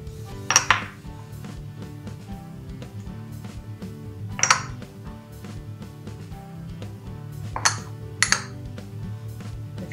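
Chickpea seitan ingredients are mixed in a bowl, with a low background of stirring broken by four sharp clinks of a utensil striking the bowl, spaced a few seconds apart.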